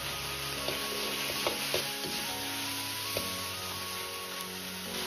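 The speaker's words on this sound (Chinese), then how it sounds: "煸炒至鸡肉收缩，表面稍微焦黄，油脂清亮，接着放入10克左右的郫县豆瓣酱" Chicken stir-fried with Pixian doubanjiang bean paste: a steady, close frying sizzle with a few light stirring scrapes, under faint background music.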